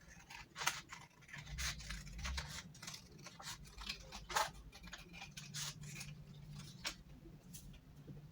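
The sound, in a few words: scissors cutting printed paper scales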